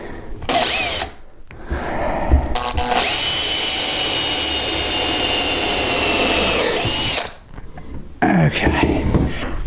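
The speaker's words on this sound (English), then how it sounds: "I'm going to drill a hole" A power drill whirs in short bursts, then runs in one long steady high whine for several seconds drilling a hole in a sawhorse, with brief handling noises around it.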